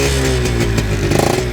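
Yamaha RX two-stroke motorcycle, converted to a five-speed gearbox, with a slightly opened silencer, running close and loud, its steady idle rumble broken by quick throttle blips near the end.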